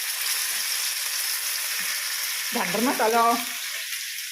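Mackerel frying in coconut oil in a pan for an egg-coated fry, a steady close hiss throughout, with someone speaking briefly over it near the end.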